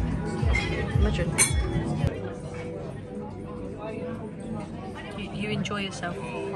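Drinking glasses clinking together in a cheers toast at a restaurant table, a few bright chinks near the start amid chatter, cutlery noise and background hubbub, with people talking throughout.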